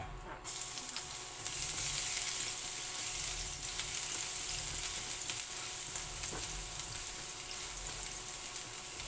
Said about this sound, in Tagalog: tayo ngayon na magigisa na ng ating bawang